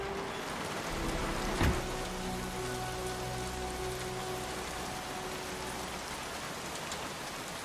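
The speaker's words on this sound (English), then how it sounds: "Goddamn rain." Steady rain in the video game Heavy Rain pours down throughout, a dense hiss of drops hitting surfaces, with a brief thump near the start and a faint low hum underneath.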